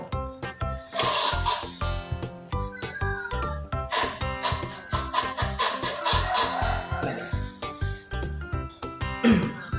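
An orange-scented air freshener is sprayed in a few hissing bursts over a busy, rhythmic background of music.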